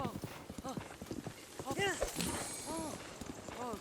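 Horse hooves clip-clop in the video game The Legend of Zelda: Breath of the Wild, a steady walking rhythm that runs under continuous talk, with brief whinny-like calls mixed in.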